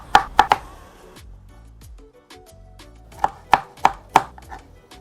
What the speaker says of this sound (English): Though I would love it in small chopped pieces, so I'm going to do some more chopping